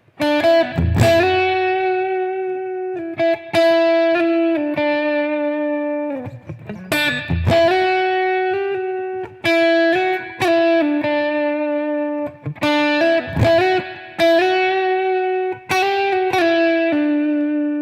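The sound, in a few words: electric guitar playing a melody through amp effects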